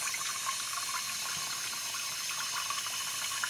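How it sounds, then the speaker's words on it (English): Water from a 1958 Briggs brass toilet plumbing fixture runs in a steady, soft, hissing trickle close by, with a faint splash texture and no pauses. "All these little drips coming out there."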